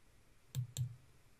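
Two crisp mouse clicks land close together on a Submit Quiz button, sharp and near in an otherwise quiet room.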